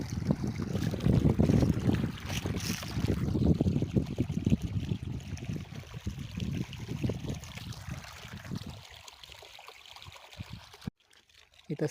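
Irrigation water gushes and gurgles steadily into an outdoor paddy field, a continuous close rushing wash that fades near the end.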